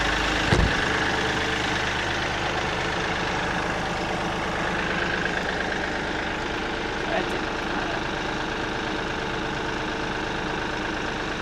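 A Kioti 3520 tractor engine idles steadily at close range, a continuous low rumbling chug with a brief knock near the start, while people talk over it.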